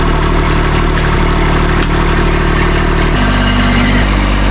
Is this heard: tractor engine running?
yes